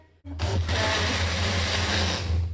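A blender motor whirs up abruptly and runs steadily at a loud, even pitch, with no voices present.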